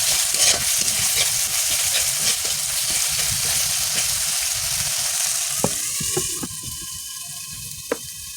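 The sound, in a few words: sautéing turmeric, chilli, coriander, cumin and cardamom powders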